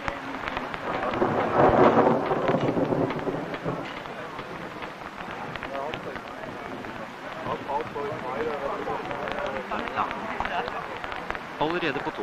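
Rain and thunder roll over a scout camp at the 1975 World Scout Jamboree: a steady wash of rain with deep rumbles, loudest early on, while voices talk throughout.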